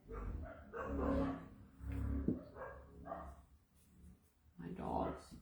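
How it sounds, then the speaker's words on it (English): Dogs bark in short bursts indoors, mixed in with steady talking during a craft session, the barks rising and falling over several seconds. "my dogs."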